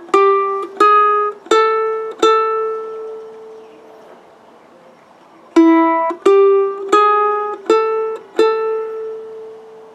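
Guitar picks out a surf riff as two clean phrases of four sharp plucked notes each, separated by a ringing pause, close and loud.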